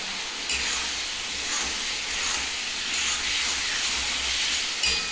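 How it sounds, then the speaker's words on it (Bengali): Potatoes are added to a hot pan and fry with a steady, close, loud sizzle that continues without break and carries no voices. "এবার আলুগুলো আমি এর মধ্যে দিয়ে দিলাম"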